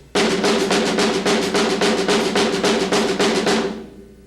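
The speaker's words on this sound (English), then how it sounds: "And pounding kind of into the drum." A snare drum is played with heavy, pounding accent strokes, about fourteen even, loud hits in a steady rhythm. It is close and alone, ending with a short ring-out.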